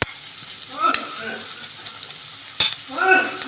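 A pan sizzles gently at medium flame while cooking egg curry, with two sharp clanks of a utensil and short bursts of stirring over a quiet frying hiss.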